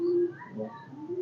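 A pet pigeon in a loft coos nearby: a low, soft, throaty coo rises and falls in a short phrase, fairly close, with no talking over it.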